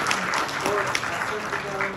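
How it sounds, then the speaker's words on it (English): A seminar audience breaks into brief applause, a dense patter of clapping with a voice speaking over it. "Applause, please."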